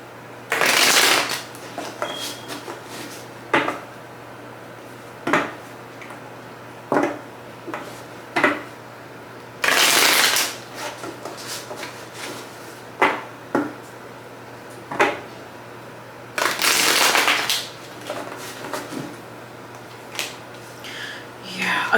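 Tarot cards shuffled in three long bursts, separated by quieter taps and handling sounds, close up with a steady low hum underneath.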